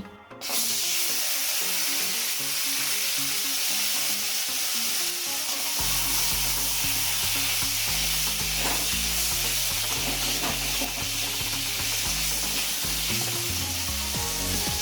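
Lentil dumplings (bori) frying in hot oil in a wok give a loud, steady sizzle that runs for the whole stretch without pause, with no voices over it.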